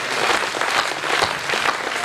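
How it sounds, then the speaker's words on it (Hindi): A crowd at a Hindi poetry gathering (kavi sammelan) bursts into loud, thunderous applause, dense rapid clapping with a few sharper accented claps, continuing steadily with no voices. "फिर तालियों की गड़गड़ाहट कीजिए"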